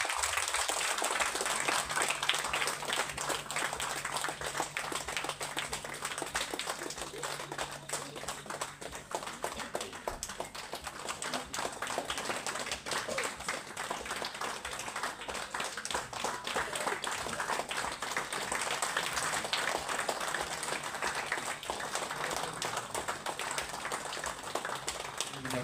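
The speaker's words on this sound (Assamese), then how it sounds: "তালিৰে বৰষুণ পৰি যাবলৈ দিওঁ" A large crowd claps continuously at a Christmas Eve celebration, steady dense applause lasting the whole stretch, strong and even with slight swells in intensity.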